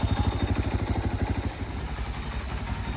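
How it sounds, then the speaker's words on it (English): A Madass 141cc minimoto with an upgraded cam and big bore runs close by, first with a fast, even pulsing thump and then settling into a rougher, steadier engine drone. "So we'll go take her now down the road. Excited. She's running."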